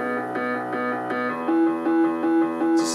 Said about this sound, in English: the piano would have come first, which sounds like this